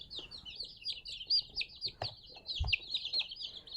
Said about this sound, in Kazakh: Жаңалық инкубатордан шыққан балапаны